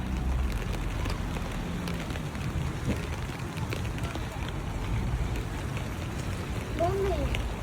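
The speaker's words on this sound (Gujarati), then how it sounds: "વરસાદ પડે છે જો." Steady rain falls outdoors while a parent collects a child from school, a continuous broadband hiss at constant level throughout, with a voice speaking over it.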